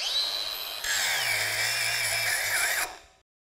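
A brushless angle grinder whines at high speed, then its pitch drops and holds under load as it is pushed toward stalling before it cuts off abruptly, close and loud.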